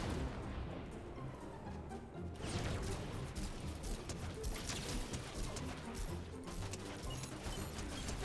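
Rapid, dense gunfire in the Fortnite video game crackles and booms continuously at close range, with mechanical clatter mixed into the chaotic battle noise.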